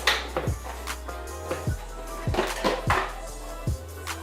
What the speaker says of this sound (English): Cut the bell pepper and some small pieces.